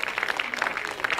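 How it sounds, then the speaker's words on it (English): A church congregation claps in a dense burst of steady, crowded applause, heard close and continuous through the short moment of praise. "Why don't you give the Lord a hand clap of praise as he makes his way up here right now."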